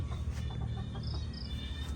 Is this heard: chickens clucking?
yes